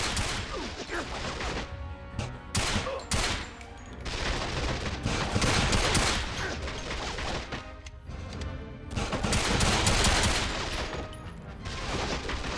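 Heavy exchanges of gunfire in the PS2 game 007 Quantum of Solace at an eco hotel, loud continuous volleys mixed with crashing impacts and explosions that rise and fall over twelve seconds.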